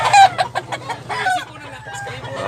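A bulanting gamecock rooster with yellow legs clucks and crows in short, repeated calls close by. A low hum sits under the calls.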